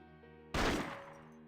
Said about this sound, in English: He fires, and the lens of the security camera in the room shatters to pieces, accompanied by the ear-splitting sound of gunfire.